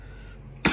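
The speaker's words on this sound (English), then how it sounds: "Try to clear my throat." A single short, close throat clearing bursts out near the end of a quiet stretch in the horror game Resident Evil Village.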